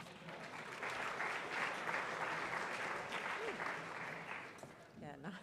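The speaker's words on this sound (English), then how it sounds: "Mr. Camellia, there was some slow clapping out there for that joke" A school assembly audience claps in a quiet, scattered way, a faint, distant patter of hands that runs throughout while voices murmur underneath.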